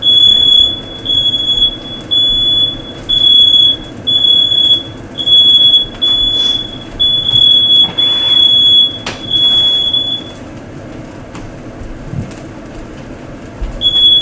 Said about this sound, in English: There goes the smoke alarms.